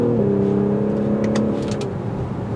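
A 2022 Audi SQ5 engine revs as the car accelerates, a loud steady drone with rising harmonics heard from inside the cabin, with faint brief clicks near the middle and no speech.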